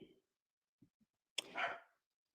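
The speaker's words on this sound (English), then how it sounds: "the dogs are barking now." Dogs barking outdoors, heard as a few faint, distant low thumps followed by one louder, closer bark-like burst with a trailing tail, nothing else audible.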